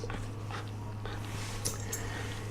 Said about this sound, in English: one of the dogs is here for a visit